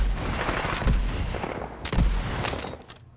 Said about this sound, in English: I managed to pull off 5 shots before I actually had to reload it.